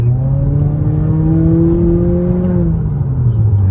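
A 2018-2022 Honda Accord 1.5T with aftermarket cold-side upper charge pipes accelerates, its engine note rising steadily in pitch as it pulls hard, loud and close, then easing off near the end.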